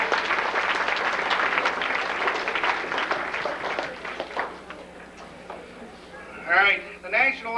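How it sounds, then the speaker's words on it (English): An audience at a 1994 high school awards ceremony applauds with dense clapping for about four seconds. The clapping then thins out and a voice starts speaking. "would you please give these people a firm round of applause?"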